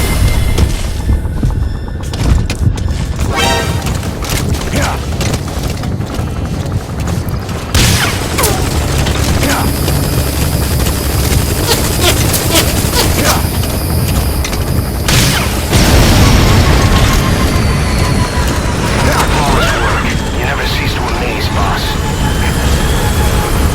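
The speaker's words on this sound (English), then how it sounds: "Whoa! That's an enemy gunship." An enemy gunship attacks in the Metal Gear video game, with heavy booms, bursts of gunfire and mechanical rattling layered loudly for over twenty seconds. Intensity shifts at a few points, and a voice speaks briefly amid the chaos.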